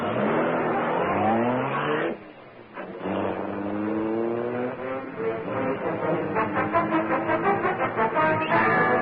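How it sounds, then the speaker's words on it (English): A gleaming Black Beauty car roars into life as a radio drama sound effect, a loud rising engine growl that drops briefly then revs up again in throbbing, pulsing waves. "The great car roared into life."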